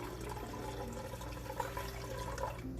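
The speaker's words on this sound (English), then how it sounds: "Let's turn the water off. Let that drain down." Water gurgling and draining down through a garden funnel just after the tap is shut off, a steady low trickle and burble, quiet and close.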